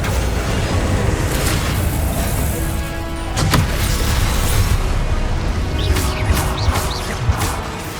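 Fire-spell explosions in the Hogwarts Legacy video game, a few booming blasts with crackling debris over a constant rumbling game soundscape, loud and close.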